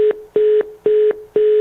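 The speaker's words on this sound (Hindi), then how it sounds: "फोन डिस्कनेक्ट हो गया।" Repeating telephone line tones as a call disconnects: four identical steady beeps in an even on-off rhythm, loud and close, with no voice.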